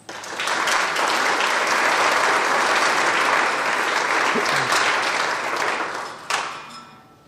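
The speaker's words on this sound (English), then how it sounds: "Let's give them a round of applause." Audience at a senior awards night for a college breaks into loud, sustained applause, many hands clapping evenly for several seconds before it tapers off with a final clap or two.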